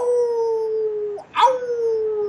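A child imitates a dog howling with a long, drawn-out falling wail, then after a brief break gives a sharp yelp and starts another sustained howl, close and clear with no other sounds.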